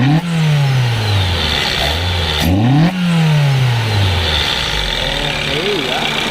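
A modified Toyota Corolla AE111 engine with individual throttle bodies revs sharply several times, rising to a high snarl and dropping back, loud and close, with a brief gap between blips.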